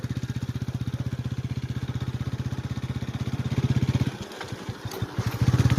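Motorcycle engine running close by at night, with a steady rapid putter that rises briefly, then drops to a rougher, uneven idle before picking up again.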